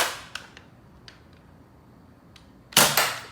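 X-Shot Xcess toy foam dart blaster firing, a few light snapping clicks followed by a loud burst of sharp bangs near the end, close and without talk.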